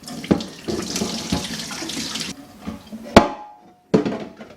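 Water splashes and runs into a kitchen sink as rinsed cabbage is drained, a steady pour that stops abruptly, followed by a few sharp clanks and knocks of a colander or lid.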